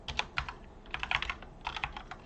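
Fingers type on a computer keyboard close to the mic, giving quick clusters of light clicking keystrokes with brief pauses between bursts.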